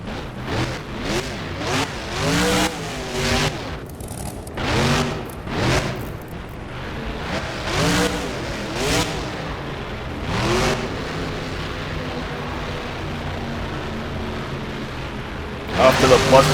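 A monster truck's engine roars and revs in repeated loud surges during a freestyle run over tabletops, bus and van stacks at a fairground show, with a commentator talking over it.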